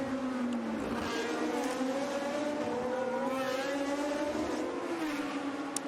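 Mid-1970s Formula 1 cars, including an Ensign N175, race through Massenet and Casino Square at the Monaco circuit. High engines wail continuously with shifting pitch as the cars accelerate and change gear, the sound full and sustained.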